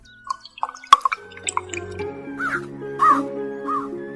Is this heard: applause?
no